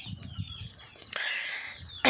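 Chickens kept for sale squawk with a raspy, drawn-out call at close range after a few softer low clucks, then a sudden loud burst at the very end.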